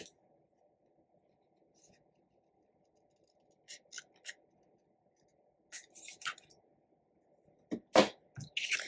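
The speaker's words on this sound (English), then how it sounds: "spin this over, and trim away the excess piece" Paper being trimmed on a handmade Christmas card tag: scattered soft snips and scratchy paper rustles separated by quiet gaps, ending in a louder cluster of cuts, close and faint.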